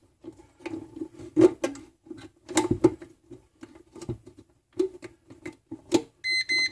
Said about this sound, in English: it'll actually light up and beep and want you to enter in another code